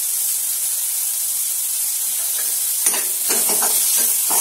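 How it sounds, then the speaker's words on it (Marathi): Tomatoes for paneer bhurji sauté in a hot pan, giving a loud, even hiss that takes on crackling bursts and stirring scrapes during the last couple of seconds. "याला व्यवस्थित परतून घ्यायचं"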